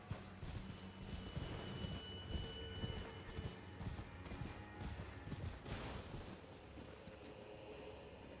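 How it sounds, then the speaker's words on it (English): Horse hooves of mounted hammer knights in Elden Ring, a steady clip-clop of galloping steps running under constant game ambience and music, with no talk. "That looked like one of those hammer knights on the horses."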